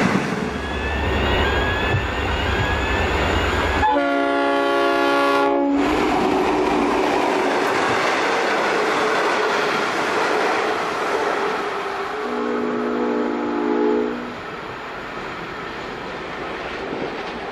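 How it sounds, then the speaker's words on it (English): An intercity express train hauled by locomotive N455 roars past at speed through a station, its loud horn blaring in a long blast and then again more briefly as the rumble carries on. "Another express, hauled by N455, speeds through the station on time at 13:35."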